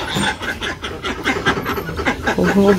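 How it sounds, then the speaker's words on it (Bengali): Ducks being let out in a Bangladeshi village in the morning quack rapidly and repeatedly at close range, a rough, rhythmic burst of calls that keeps going. "চলো চলো হাঁস ছাড়ো, হাঁস।"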